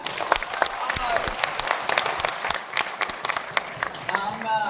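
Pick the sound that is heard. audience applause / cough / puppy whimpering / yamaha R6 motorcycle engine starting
audience applause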